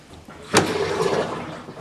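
Water drains from a Costway/Giantex twin tub washing machine, beginning with a sudden click and gush, then settling into a steady rushing flow, close and alone.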